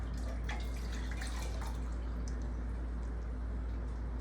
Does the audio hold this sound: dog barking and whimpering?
no